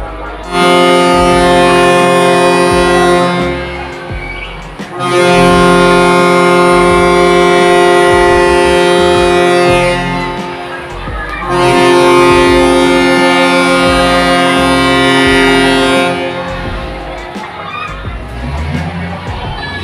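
Passenger ship KM Ciremai sounds its horn before leaving port on the Biak to Manokwari route: three long, loud, deep blasts separated by short pauses, with faint crowd noise beneath.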